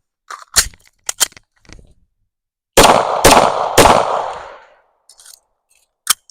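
A 9mm pistol firing Chinese steel-case ammunition outdoors: several loud, sharp single shots, then a quick string of three booming reports with trailing echo, and a final distant crack.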